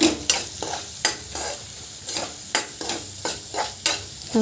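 Kashmiri chilli powder and salt are stirred into vegetables in a pan for a sweet-and-sour vegetable dish, with a close, rhythmic scraping about twice a second over a light sizzle.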